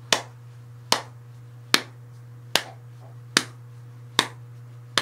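A steady rhythm of single sharp hand claps, about one every 0.8 seconds, six in all, close and crisp over a constant low hum with no voice.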